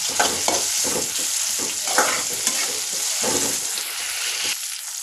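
Tomatoes frying in a pan for chavalikayi palya, a loud continuous sizzle broken by frequent spatula scrapes and stirs up close, ending with a brief quieter moment.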